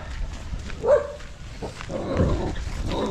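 A dog gives a single bark in the middle, moderately close, outdoors over murmuring background noise and rustling.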